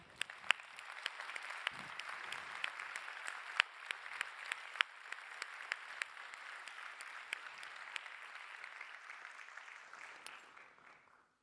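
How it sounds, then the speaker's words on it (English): Audience applause at the 2019 Nobel Prize lecture in Economic Sciences, a steady bed of many hands clapping in a large hall with sharper individual claps, fading out at the end. "So I'm going to start by clapping for these people."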